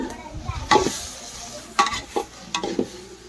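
Beef curry being stirred in a pot over a wood-fired stove: a few distinct scraping clanks of a spoon against the pot at irregular intervals over a low, steady background hiss.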